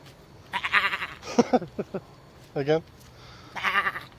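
A voice imitates a sheep with a few wavering, nasal bleats, close to the listener, broken up by short bits of an adult speaking between the calls.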